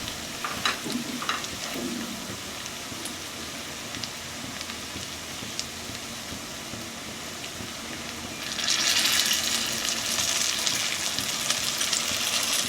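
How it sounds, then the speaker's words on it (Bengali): Masala with chopped coriander frying in oil as it is stirred, a soft crackle with light scraping that swells into a loud, dense hiss of sizzling partway through, close and with no voices. "আবারও আমি খুব ভালো করে নেড়ে দেব"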